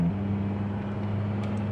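A steady, low, droning hum from a big bore stainless exhaust on a non-turbo 2.4 five-cylinder car, heard with the window open while driving, even and unbroken throughout.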